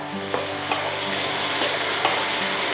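Pork stir-fried in a pan over medium-high heat, a dense continuous sizzle with light periodic clinks of the spatula, close and steady, no talking.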